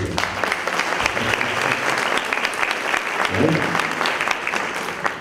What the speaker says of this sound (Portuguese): Um aplauso à Escola de Pais, né?